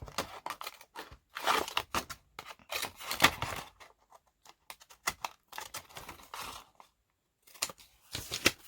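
Scissors snip and trim craft material in quick irregular bursts of crisp cutting and rustling, close by, with short silent gaps between clusters of cuts.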